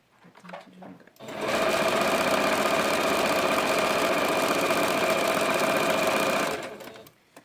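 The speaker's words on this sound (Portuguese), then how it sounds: "vou passar uma costurinha bem na beiradinha do tecido. Não precisa nem dar retrocesso" A sewing machine stitches along the edge of fabric joined to felt, running in one continuous loud, steady whir for several seconds before stopping, with faint handling noises before and after.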